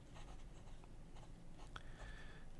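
A Hongdian M2 fountain pen nib moves over paper in faint, soft, scratchy strokes, short and irregular, with no voices.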